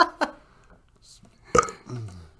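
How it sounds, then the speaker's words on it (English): A single short burp rises in the middle, close and fairly loud, framed by brief voices talking before and after it. "You burped."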